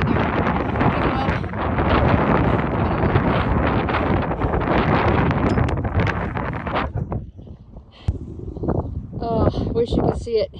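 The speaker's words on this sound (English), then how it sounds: "It's windy." Strong wind buffets the microphone on a dark mountain trail at night, roaring loudly for several seconds before easing into gustier, broken bursts.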